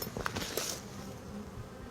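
Calm honey bees buzz at an open hive, a close, dense insect hum with a few louder passes near the start.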